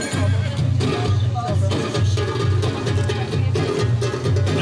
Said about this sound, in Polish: koń z numerem szóstym to był Espimar